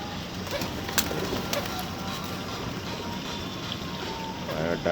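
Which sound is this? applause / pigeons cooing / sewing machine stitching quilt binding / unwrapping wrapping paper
pigeons cooing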